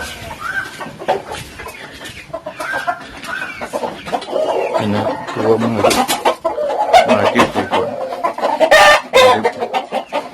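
Backyard native-breed hens and roosters cluck steadily with occasional crowing, close and busy, while someone talks over the flock.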